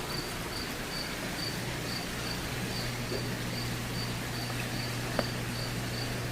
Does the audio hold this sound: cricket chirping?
yes